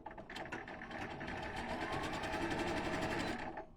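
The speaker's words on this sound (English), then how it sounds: "And then I'm going to just start sewing." A sewing machine stitches a blind hem in one continuous run of rapid, even needle strokes, close up and steady, starting and stopping cleanly with no talk.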